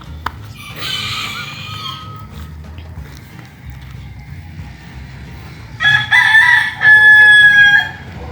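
Newly hatched Ketawa chicks and chickens in a coop, with a faint peep early on, then loud shrill calling bursts near the end and a steady low background hum.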